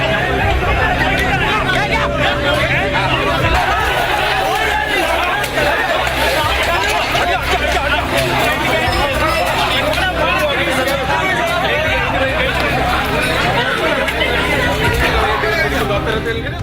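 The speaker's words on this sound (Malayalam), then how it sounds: "ഒരു രാഷ്ട്രീയ പാർട്ടിയുടെയും പിന്തുണയില്ലാതെ ഒത്തുകൂടിയ ആൾക്കൂട്ടം ആക്രോശിച്ചു." A crowd shouting outside a police station, dense loud babble of many voices with no single speaker standing out, continuous and close throughout.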